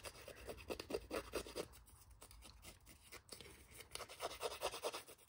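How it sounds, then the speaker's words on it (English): Paper edges scraped to give a distressed, shabby look to a winter-themed Christmas pocket card: a steady, close, dry rasping in repeated short strokes, pausing briefly midway before resuming, with no talk. "you can just keep scraping until you get a nice shabby look to it"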